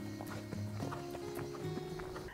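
A horse's hooves beat a steady rhythm as it canters during a riding lesson in an arena, close and continuous, with a faint voice in the background.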